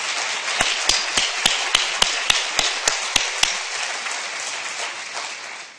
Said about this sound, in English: Would you please also give them a very well-deserved round of applause?